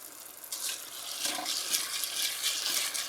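Water poured from a tap into a pot for vegan jollof rice, a continuous gentle splashing and hissing stream that runs for a few seconds, fairly quiet and close.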